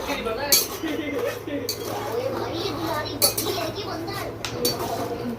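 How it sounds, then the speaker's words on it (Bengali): Peanuts roasting in a pan in a home kitchen, with repeated metallic clinks and scrapes of a utensil against the pan and a few sharper knocks. A voice murmurs faintly underneath. "বাদামটা লাল লাল করে ভেজে নেব।"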